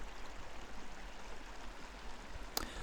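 Holbrook Creek, a clear mountain stream draining Lake Como, rushes in a steady, broad watery wash at moderate distance, with one brief sharp click near the end.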